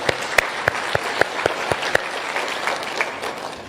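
Mourners at the funeral of Nzamba Kitonga clap for him, rhythmic loud claps in unison at first, then looser crowd applause that continues steadily.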